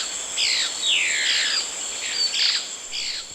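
Insect-eating birds following army ants give a series of high, sweeping whistled calls, about five clear phrases in quick succession over a steady insect-like hiss.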